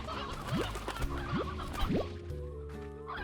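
Rooster clucking in the video game Slime Rancher, short clucks and rising chirps scattered over busy background game sounds and music, moderately loud throughout.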